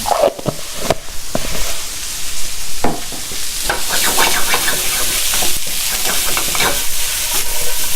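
Salted vegetables being stirred in a hot sizzling pan, with a steady loud frying hiss broken by scraping stir strokes, close and with no talk.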